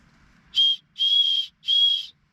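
A small whistle built into a camping flint and steel fire starter gives three loud, shrill, piercing blasts, one short and two longer, with clear silent gaps between them.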